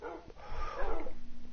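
A tamed wolf dog in Minecraft whimpers softly, a short, faint, wavering whine lasting about a second.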